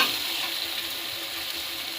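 Papad frying in oil in a wok, giving a steady bright sizzle and crackle that stays close and fairly loud throughout, with no talking.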